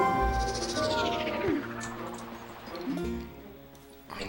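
A Poe ghost sound from the video game Zelda: Twilight Princess, a wavering, descending cooing wail that repeats twice over a soft musical background.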